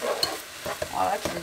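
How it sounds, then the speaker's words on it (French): Onions fry in a pan with a soft sizzle while a utensil stirs them, giving a few scraping knocks over a short stretch; no voice is heard. "vous les faites frire un peu"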